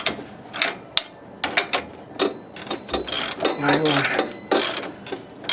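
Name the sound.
wrench tightening shock absorber on 2001 Camaro Z28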